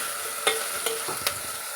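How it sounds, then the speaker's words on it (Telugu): Cumin and chopped onions fry in a pan for an ivy gourd curry, a constant close sizzle punctuated by three sharp stirring scrapes in a quick uneven rhythm. "ఇప్పుడు కట్ చేసిన ఆనియన్స్ కూడా వేసుకుందాం. ఆనియన్స్ మంచిగా ఫ్రై అవ్వాలి."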